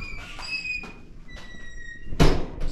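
A large, heavy door swings open in an empty building, a drawn-out creaking squeak followed by a solid thunk and a rattle near the end, close by and fairly loud.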